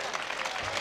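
Audience clapping at a live Hindi poetry and song recital, a dense steady wash of applause filling the space for under a second with no gaps.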